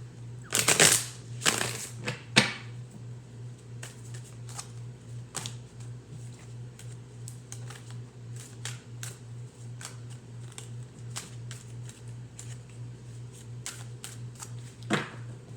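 Tarot cards riffled and shuffled in a few quick bursts close up, followed by scattered light taps and card clicks over a steady low hum.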